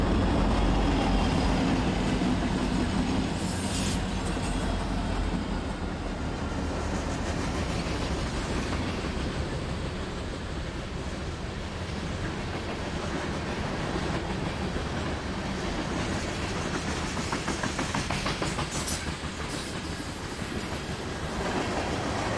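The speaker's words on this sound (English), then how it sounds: "Our first train of the morning has 6 locomotives at the front, including an SD60M with a distinct 3-windshield cab in the lead." Southbound manifest freight train led by six locomotives, an SD60M in front, rolls past steadily with a continuous rumble and rhythmic clickety-clack of wheels, plus occasional faint squeals, with no talk.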